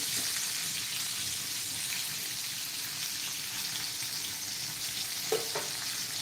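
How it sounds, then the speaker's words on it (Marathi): Bangda mackerel fish frying crisp in a pan, a steady close hiss and sizzle throughout with a faint clink near the end. "बघा दुसरी बाजू सुद्धा चांगली फ्राय करून झालेली आहे"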